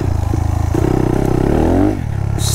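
A 181cc Monkey minibike rides through woods, its engine note running steady and close, rising briefly as it revs before settling back, with some clatter from the trail.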